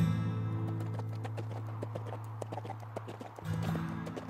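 A horse's hooves clip-clop at a steady walking pace under a low, continuous drone, the hoofbeats moderately close and even throughout.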